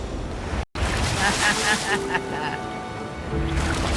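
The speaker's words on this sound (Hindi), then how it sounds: "वो लहरें काफी बड़ी लग रही हैं और वो हमारी तरफ ही आ रही हैं" Large ocean waves roll toward an island near slippery rocks in a dense, continuous roaring wash with wind buffeting the microphone, close and loud throughout apart from a brief dropout early on.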